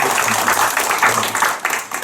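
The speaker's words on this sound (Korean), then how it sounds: "우리 수고하신 모든 분들께 좀 감사한 박수로" Church congregation gives a round of applause for everyone who served, a steady dense patter of clapping lasting throughout, fairly loud and close, with no speech over it.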